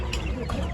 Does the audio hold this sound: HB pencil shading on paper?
no